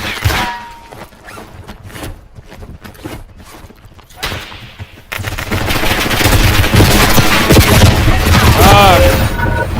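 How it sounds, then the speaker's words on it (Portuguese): Bunker buster bombs go off in Call of Duty Warzone, their heavy roar swelling midway and holding loud to the end. It comes after a quieter stretch of scattered thuds and faint gunfire, with some voice in the mix. "Mandando bomba anti-bunker. E acertaram!"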